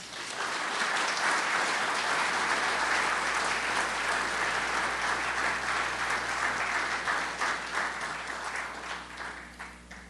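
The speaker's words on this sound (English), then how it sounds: "Please give a big round of applause to our speaker this morning," Audience at a morning mayors' breakfast event giving a warm round of applause to speaker Ed Jennings, dense sustained clapping that gradually thins out toward the end.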